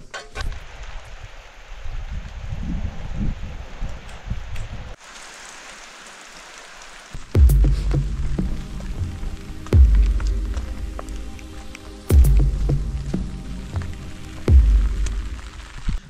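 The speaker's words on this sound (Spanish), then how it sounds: "miren cómo está de fuerte la lluvia aquí" Heavy rain falls outdoors at a remote riverside home, a steady broadband wash that drops away briefly midway, then returns louder with repeated low thumps and rumbles mixed in, no talking over it.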